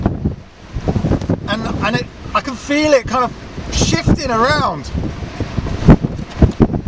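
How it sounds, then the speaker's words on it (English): Gale-force wind gusts around and under a car, a steady rough rumble and buffeting of wind noise running beneath someone talking nervously throughout. "It's genuinely being lifted by this wind."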